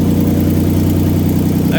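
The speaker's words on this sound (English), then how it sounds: "Exhaust is not connected, that's why it's loud." A BMW E36 coupe engine idles loud and rough with a deep, throaty drone, close by and steady, the disconnected exhaust making it harsh and booming.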